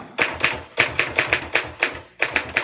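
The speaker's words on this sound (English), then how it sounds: "I was typing up a progress report on the Bobby Lee Armature murder" A typewriter clacks out a progress report in brisk bursts of sharp, close keystrokes, about a dozen strikes with a short pause midway.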